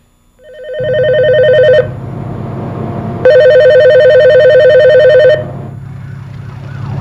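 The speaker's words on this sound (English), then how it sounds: "I think I want to make my phone call." A telephone rings with loud electronic warbling tones in two long bursts separated by a short pause, over a steady low hum, with no talking.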